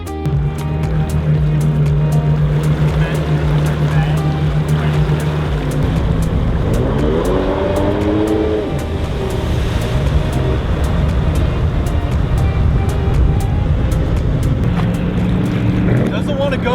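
A Sea-Doo GTI LE jet ski with a replacement engine runs at a high idle during a sea trial, a loud, steady droning hum with wind noise and people talking over it.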